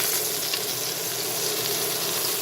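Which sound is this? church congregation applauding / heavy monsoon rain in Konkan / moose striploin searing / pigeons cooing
moose striploin searing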